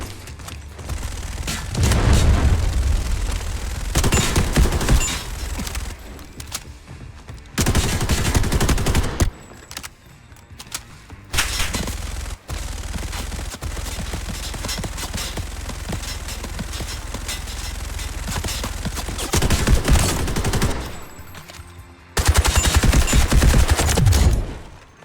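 An enemy machine gunner firing in the Delta Force extraction shooter game, loud sustained bursts of automatic gunfire broken by short pauses, with a few booms and mechanical clatter.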